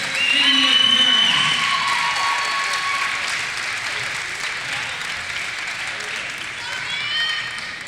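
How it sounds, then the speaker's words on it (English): A crowd in a high school gym applauds senior girls' basketball players and their parents, with sustained clapping and some cheering that fades slightly, then swells again near the end. "How about a round of applause for our senior players and their parents?"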